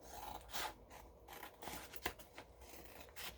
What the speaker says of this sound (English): I'm going to do that with my scissors right now.